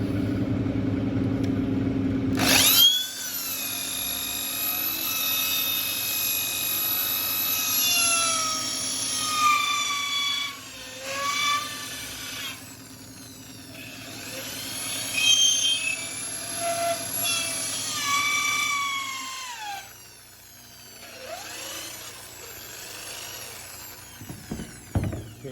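A rotary tool fitted with a cone-shaped tungsten carbide bead enlarging the hole of a shofar horn, a loud high-pitched whine that rises and falls in pitch as it bites, with short pauses between passes.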